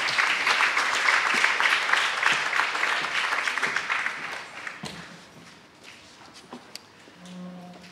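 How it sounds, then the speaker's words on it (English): Conference attendees at a review panel applaud for several seconds, steady clapping that thins out into sparse claps and faint shuffling, with a low hum near the end. "They richly deserve a round of applause."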